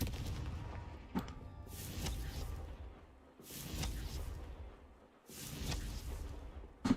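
The Confringo blasting spell in Hogwarts Legacy goes off again and again, each cast a heavy whooshing boom that rises and fades, three or four big bursts spaced about two seconds apart with sharp cracks in between and no speech.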